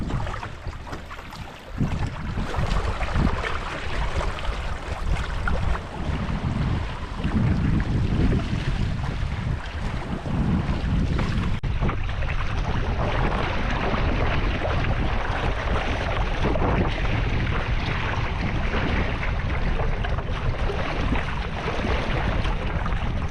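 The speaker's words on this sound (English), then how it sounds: "The wind's picked up" Strong wind roars and buffets the microphone continuously, with the wash of water and a sailing kayak moving beneath it, loud and unbroken.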